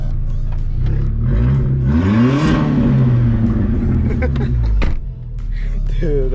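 Straight-piped Volkswagen turbo engine revving hard, rising and falling in pitch with a loud, raspy exhaust and a sharp drop back toward idle, heard up close while people talk nearby.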